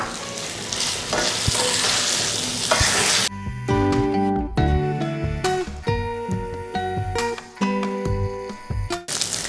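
Boiled, cut taro root sautéed over high heat in oil, sizzling loudly and steadily up close while a spoon scrapes and stirs it in repeated rhythmic strokes.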